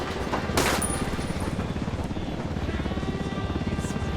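A helicopter in the video game Ghost Recon Wildlands thrums with a fast, steady rotor chop throughout, loud and close, joined by a brief burst of gunfire near the start.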